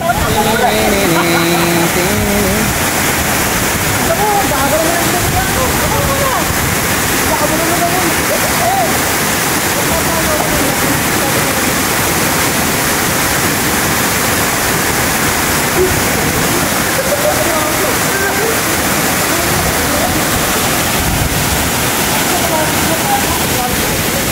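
Kilangin Falls waterfall roars steadily and loudly up close, a dense continuous rush of falling water that fills the whole stretch, with faint voices briefly audible near the start.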